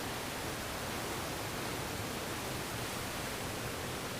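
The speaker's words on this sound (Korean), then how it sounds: "좁은 바위 사이를 터질 듯 쏟아져 내리는 하얀 포말의 물줄기는 영락없는" Water rushes and pours white and foaming between narrow rocks at Gumunso in Taebaek after heavy summer rain, a dense, steady roar that stays broadband and unbroken.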